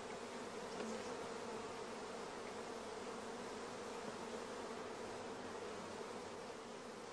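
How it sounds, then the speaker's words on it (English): Loud, steady buzzing of orphaned, queenless honey bees inside a queen-rearing starter colony hive, a dense continuous drone with no pauses and no voices. "in the queenless starter colony, we can hear the loud buzzing of the orphan bees."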